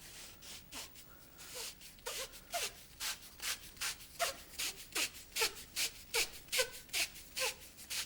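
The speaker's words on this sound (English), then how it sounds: "get an old blank and attach some sandpaper on it" Cork rod handle rubbed with sandpaper fixed to an old rod blank, a steady run of about twenty rhythmic rasping strokes, close and fairly quiet.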